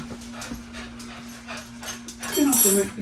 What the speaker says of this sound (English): That's Cal coming in. That's why he barking